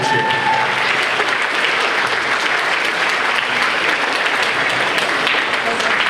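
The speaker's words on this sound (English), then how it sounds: "Why don't you give them a cheer?" A graduation crowd of families and students breaks into steady, loud applause and cheering for parents and guardians, dense clapping filling the whole stretch without pause.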